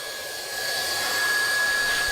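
A Triac handheld hot air welding gun for vinyl flooring blows a steady airy whoosh with a thin constant whine, rising slightly in strength after the first half second, close and alone.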